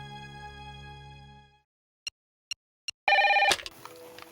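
A telephone tone holds steady, then cuts out; three short separate beeps follow, and finally a loud, brief burst of electronic ringing, all fairly clean and close.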